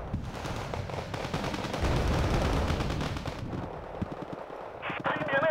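Bombs dropping and exploding from a bomber in a video game, a dense rumbling barrage of rapid blasts and artillery-like booms, loud and close, thinning out toward the end as a voice comes in.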